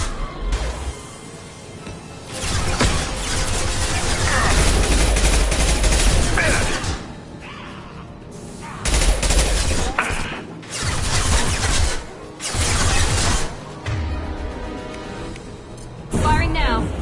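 Weapons firing in Mass Effect combat, repeated loud bursts of gunfire and impacts separated by brief lulls, with voices talking throughout amid game sound effects.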